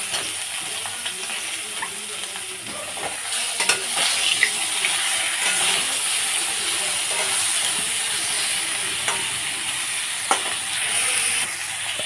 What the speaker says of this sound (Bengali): এখন আমি বেগুনগুলোকে ভেজে নেব।